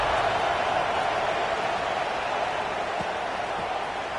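A College Football 26 stadium crowd roars steadily at a kickoff, a dense even wash of cheering noise with no distinct breaks.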